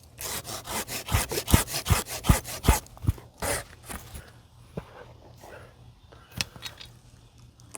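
A pine stem is cut during tree pruning, a quick run of sharp rhythmic sawing strokes close by, then slower scattered scrapes and knocks as the work eases off.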